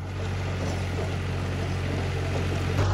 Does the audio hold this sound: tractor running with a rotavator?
yes